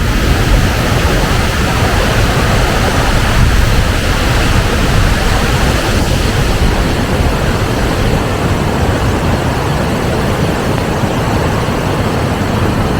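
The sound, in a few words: Edessa waterfall falling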